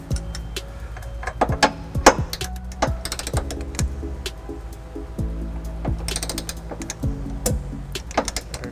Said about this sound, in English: Putting on a 5-inch extension, that way I can get my torque wrench below the hitch here.